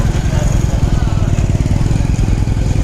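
A motorcycle engine runs loudly and steadily nearby in a parking area, giving a rapid, even putter throughout.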